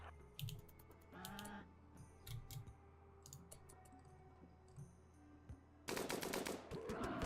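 Rapid gunfire from the colony game Rimworld comes in sharp broadband bursts, a short burst early and a louder sustained volley near the end, over a low steady game background hum.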